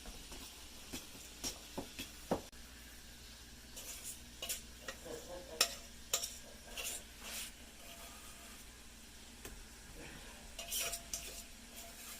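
Biscuit dough being stirred in a bowl, a spoon scraping and clicking against the sides in irregular bursts, fairly quiet and close, with no talking.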